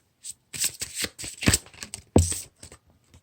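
A deck of tarot cards being shuffled, with several quick riffling and sliding bursts separated by short pauses, close and fairly quiet.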